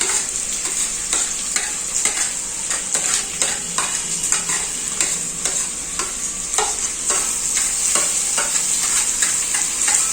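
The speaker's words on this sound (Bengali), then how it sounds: "পেঁয়াজ আর টমেটোগুলো দিয়ে দিলাম পেঁয়াজ লাল লাল না হওয়া অবধি এটাকে কষাতে হবে" Onions and tomatoes sauté with chicken in a pan for a Bengali country-chicken kosha, a steady close sizzle broken by repeated scraping stirs throughout.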